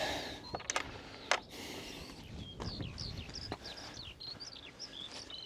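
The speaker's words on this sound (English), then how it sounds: "Ah, nice bird song." Birdsong floats overhead on a gravel walk past Coombes Rocks in the Peak District: a run of small, high chirping phrases over faint outdoor rustle and a few scuffing footsteps, with no talk.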